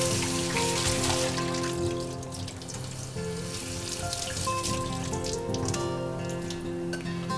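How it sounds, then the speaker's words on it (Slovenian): Cold water pouring into a pot over drained, freshly cooked food in a kitchen, a steady loud splashing and gurgling stream that runs throughout with no speech. "precedili skozi cedilo in takoj ga zalijemo z mrzlo vodo"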